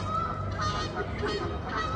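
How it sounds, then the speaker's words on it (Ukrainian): Geese honking continuously, a noisy overlapping chorus of harsh calls that sounds fairly close. "Гуси кричать."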